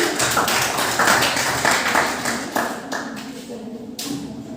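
Students in a middle-school class clap for a quiz team during an English literature week competition, a steady burst of many hands that thins out toward the end.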